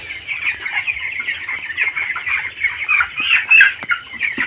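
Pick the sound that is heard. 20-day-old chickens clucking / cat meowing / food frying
20-day-old chickens clucking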